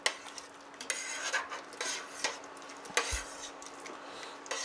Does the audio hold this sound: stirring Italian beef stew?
yes